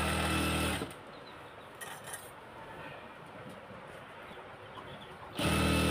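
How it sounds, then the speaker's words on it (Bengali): A sewing machine stitches a salwar in short, dense bursts: loud, close whirring at the start and again at the end, with a quieter stretch of softer mechanical noise between. "হিসাব করে 6টা সেলাই দিয়ে দিব ঘন ঘন করে"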